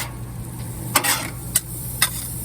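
Butter in a frying pan, giving a steady soft sizzle broken by three sharp bursts, likely from stirring or food hitting the hot pan.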